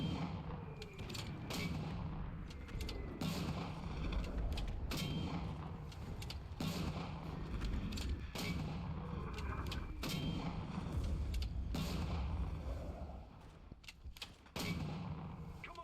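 Rifle and battle gunfire in the World War II shooter game Enlisted, heard as repeated loud sharp shots and distant explosions at irregular intervals over a constant rumbling battlefield din.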